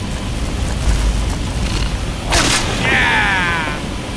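A fiery burst in Skyrim, heard as a sudden loud whoosh over a dense rumbling bed, followed by a wavering crackle as the flames spread, with a voice briefly audible.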